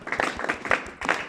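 A school class on a museum tour in Pretoria claps their hands for someone, several bursts of fairly close group clapping with a brief pause before a final round.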